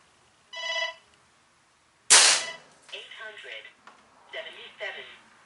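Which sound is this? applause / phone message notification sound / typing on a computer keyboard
phone message notification sound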